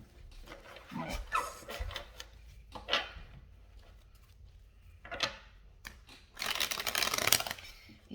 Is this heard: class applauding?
no